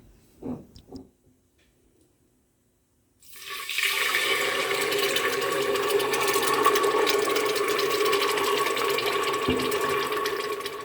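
A motorized appliance, likely a blender, whirs loudly and steadily for several seconds while blending ginger and green chilies into a fine puree, after a quiet start with a couple of light knocks.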